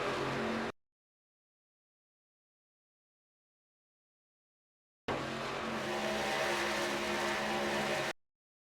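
Race car engine and tire noise from an ARCA Menards car in the iRacing sim at Kansas Speedway, a brief burst at the start, then silence, then about three seconds of steady loud engine roar with tire scrub as the car spins.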